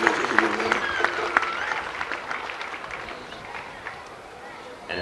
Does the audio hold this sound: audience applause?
yes